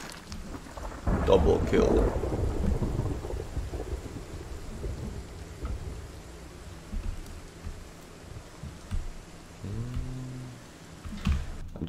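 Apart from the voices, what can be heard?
thunder and rain in video game Project Zomboid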